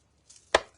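During a dry embossing craft session, an embossing folder takes a single sharp, close knock, preceded by a faint rustle in otherwise near silence.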